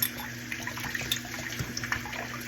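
Tap water running steadily over items during a final rinse in a sink, a close, continuous splashing rush with small bumps and clatters of objects under the stream.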